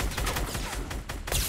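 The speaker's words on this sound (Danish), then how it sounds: "Han har en shotgun" Loud, dense bursts of shotgun fire in Fortnite, a few sharp blasts close together over a continuous noisy background.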